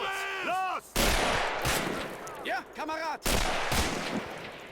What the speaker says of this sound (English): Seems like a sniper or something firing off